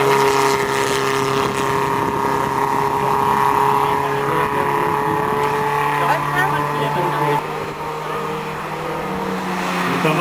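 A post-war Renault Dauphine races up a historic hill climb course, its engine droning steadily and loudly close by, with a sustained tone that shifts pitch slightly near the end.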